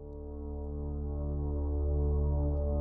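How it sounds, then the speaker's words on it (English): A low, droning percussion atmosphere from the Cerberus Percussion library plays in wide stereo, a sustained resonant hum that slowly swells in loudness with no talking. "So the stereo spread on these atmospheres sounds like this."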